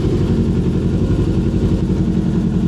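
Suzuki GSX 150 motorcycle engine running steadily and loud up close, a dense low throb as the rider eases out the clutch in first gear to pull away.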